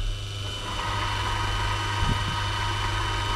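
A metal lathe with its gearbox running while boring a Velocette 500 electric starter part, giving a steady mechanical hum and drone with a slight knock partway through, alone and at moderate volume.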